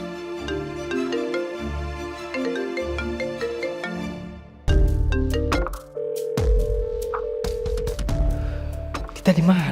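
A phone call goes unanswered, a melodic ringtone repeating in steady cycles, then giving way to louder tonal music with sharp hits.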